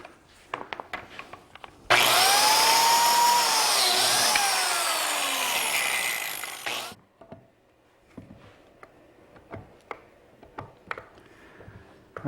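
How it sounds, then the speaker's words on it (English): Biscuit joiner cutting slots in 200-year-old heart pine: a loud, close whine of the spinning blade for about five seconds, bracketed by soft knocks and handling clatter of the tool and wood. "made some marks so I can cut some biscuit slots which will help align the surfaces."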